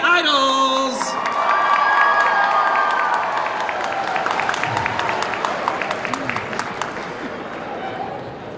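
A convention crowd at a cosplay skit event claps and cheers, with whoops and high shouts over sustained applause that gradually thins out, while a voice speaks briefly at the start.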